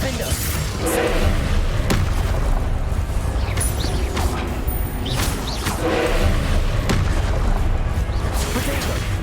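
Spell blasts in the Hogwarts Legacy game, with booming impacts and crashing hits repeating across a dense, continuous wash of combat noise and game score.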